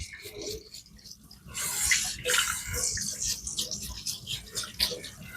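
Water splashes and trickles over a budget diamond sharpening plate, rinsing off loose grit after knife sharpening; a steady close wash with rising and falling gushes, no talking.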